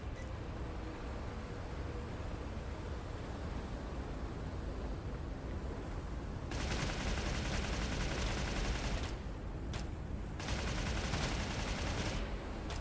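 A weapon fires steadily in a free multiplayer survival shooter, a continuous dense roar of rapid gunfire with harsh crackle throughout, briefly broken by short pauses near the end.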